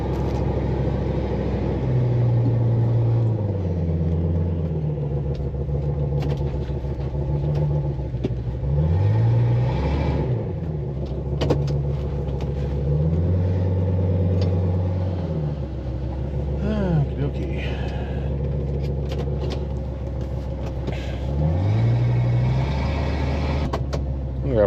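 An old, overweight truck loaded with a dumpster, its engine rumbling loudly inside the cab while driving, rising and falling through several revs and gear changes, with a person speaking at times.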